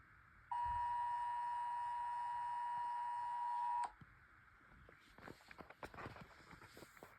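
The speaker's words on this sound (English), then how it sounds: "UK ESA alarm kinda does sound way creepier than the United States one" A UK emergency alert tone plays from a phone as a loud, steady, piercing beep held for about three seconds, then cuts off sharply, leaving soft rustling and faint footsteps.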